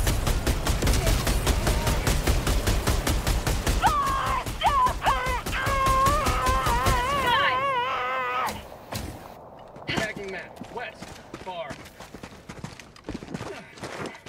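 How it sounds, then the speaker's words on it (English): A Helldivers 2 turret fires in a rapid, relentless stream of loud close shots, with a voice talking over part of it, then breaks off into scattered separate blasts. "I have the turret now."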